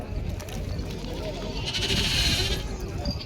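Goats at a livestock market in Hingoli district, Maharashtra, bleating through a busy crowd hum, with a louder stretch of overlapping animal cries and murmuring people nearby.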